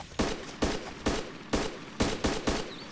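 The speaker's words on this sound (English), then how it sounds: "he's shooting at me for sure" Enemy gunfire in a tactical shooter video game, seven loud sharp shots spaced at a fairly even, deliberate rhythm, close and clear with no talking over them.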